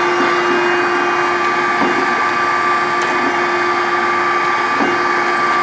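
Okamoto 16 x 32 surface grinder with its spindle and hydraulic table running, a loud steady hum and whine with a constant drone and faint intermittent knocks.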